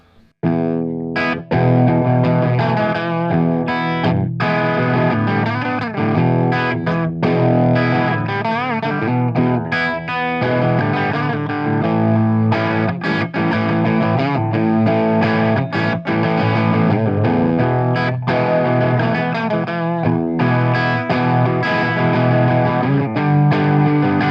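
An electric guitar plays a continuous blues riff through a Marshall amplifier's clean channel, loud and steady with chords and single notes, with no talking.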